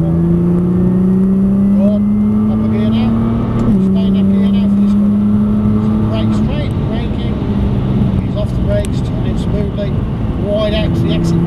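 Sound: Nissan GTR accelerating on track

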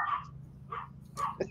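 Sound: dog barking

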